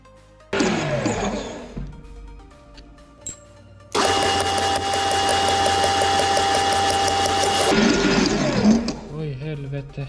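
A milling machine cuts valve pockets into Volvo pistons. Brief spindle bursts give way to a long, loud, steady whining cut that ends abruptly, and voices are audible around it.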